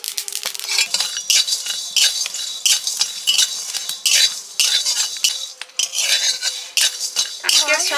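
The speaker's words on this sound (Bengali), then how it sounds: "এবারে আমি বিরিয়ানি মশলাগুলো ভেজে নেব।" Whole biryani spices fry in a pan for kacchi biryani, with a steady sizzle under repeated close metallic scraping, clinking and stirring of a utensil against the pan, loud and continuous, no talking.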